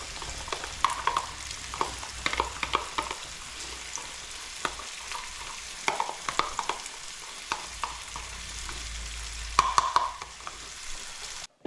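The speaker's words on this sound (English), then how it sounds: "I'm going to take this tomato sauce and dump it in there." Tomato sauce dumped into a hot frying pan of cooked German food, sizzling and crackling steadily with scattered sharp pops and some stirring scrapes, close and fairly loud with no talking.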